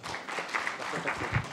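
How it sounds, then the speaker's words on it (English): Applause from an audience at a fireside chat event, a steady patter of many hands clapping for about a second and a half at moderate level with no talk over it. "Can we have a huge round of applause?"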